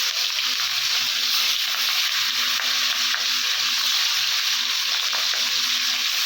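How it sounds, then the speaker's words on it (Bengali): Katla fish heads fry in hot oil with a loud, continuous sizzle that holds steady throughout, close and unbroken, with no voices. "এখন মাছগুলো ভাজা হবে"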